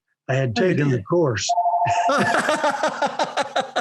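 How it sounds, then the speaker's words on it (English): A telephone rings in the room while a person is speaking: a brief, steady electronic tone sounds under continuous talk. "I'm sorry that phone is in the room."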